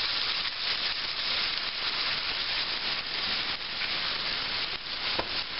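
Brussels sprouts and onion sautéing in a pan make a steady, close sizzling hiss that runs unbroken throughout, with a few faint scrapes and small pops.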